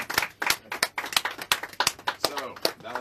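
Hands clap in a radio studio at Wazobia FM, about a dozen sharp, fairly close claps in an uneven rhythm.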